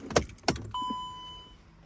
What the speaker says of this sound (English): Switch off ignition, which we will do. Switch on ignition.